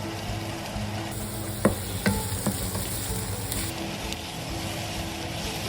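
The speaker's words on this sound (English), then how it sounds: "Stir in the garlic for a minute or until they are fragrant." Chopped garlic fries in a pot for Thai red chicken curry, a steady sizzle with a few sharp spoon knocks and scrapes as it is stirred, close and alone without talk.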